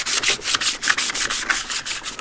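Abrasive scuffs across the surface of a metal ammo can as it is prepped for paint, a steady run of rhythmic rasping strokes, close and fairly loud, with no voices.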